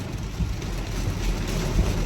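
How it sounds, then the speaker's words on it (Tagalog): Heavy rain in the Philippines falling as a steady, dense hiss with a low rumbling undertone, loud and unbroken throughout. "Malakas yung ulan"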